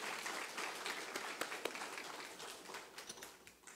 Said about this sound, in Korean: 그 하나님께 영광의 박수 돌리겠습니다.